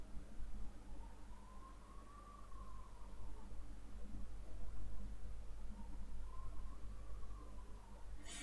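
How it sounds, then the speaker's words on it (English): Ambulance sirens passing outside on a hot day, a faint wailing tone that rises and falls twice in the distance beneath steady background hiss. "You're going to hear more ambulances with the hot weather"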